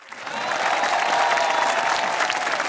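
An audience of Pak Army soldiers at an Eid comedy show in Rawalakot breaks into loud clapping and cheering, swelling quickly and holding as a dense, close wall of applause.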